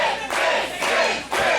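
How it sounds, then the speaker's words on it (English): A pro wrestling crowd chants in rhythmic, roaring surges that rise and dip several times, loud and full-bodied, with no clear individual voices. "Crowd chanting Gates."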